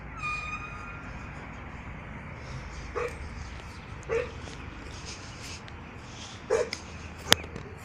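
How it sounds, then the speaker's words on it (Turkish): A very old watchdog gives a few short, faint whimpers and yelps at spaced intervals against a steady background hiss outdoors. "Güzel bir bekçi köpeği bu."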